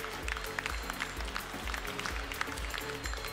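An audience applauds prize winners at a Gascon cattle breed show, a rhythmic clapping pattern with regular low thumps, steady and moderately loud throughout.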